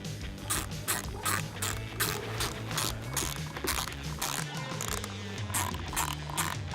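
A 3mm Allen key tightening small bolts on a K&N cold air intake for a Toyota Tacoma: a steady run of close metallic ratcheting clicks in an even, quick rhythm, with no talking.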